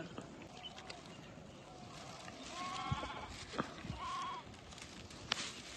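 Sheep bleat a few times in an open rural field, short harmonic calls rising over a faint, steady outdoor background, with no speech.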